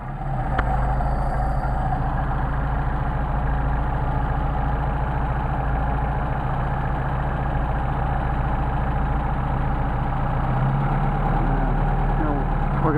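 A Mercedes 190SL engine running on Solex carburetors idles steadily up close, a continuous low rumble with an even throb that holds throughout, with a brief click near the start.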